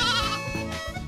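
Goat or sheep bleating on a farm, a short wavering call heard close and clear on its own, with no talk.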